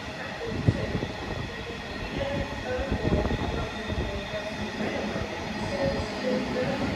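A Class 66 diesel locomotive hauling a train past at close range, with a heavy rumble and rapid wheel clatter over the rails, a faint squeal, and steady loudness through the pass.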